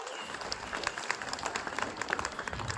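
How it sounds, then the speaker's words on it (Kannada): Loud applause from an audience honouring a female artist at a trust's recognition event, dense steady clapping filling the whole moment without pause. "ಅವರಿಗೆ ಜೋರಾದ ಚಪ್ಪಾಳೆ."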